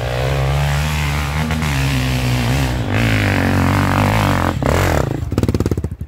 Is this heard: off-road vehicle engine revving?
yes